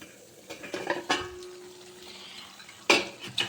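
Mixed vegetables cooking in a home kitchen pan, a soft steady sizzle with a few clinks and stirring knocks of a utensil against the pan, a louder scrape near the end.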